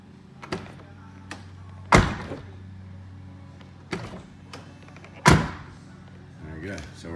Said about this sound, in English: Now you'll see my door close and you'll see the window go up.